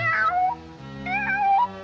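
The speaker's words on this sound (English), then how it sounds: "I'm that hungry little kitty cat you just read about." A cartoon cat from a 1941 Woody Woodpecker short gives two drawn-out, exaggerated meows, loud and close, with a brief pause between them.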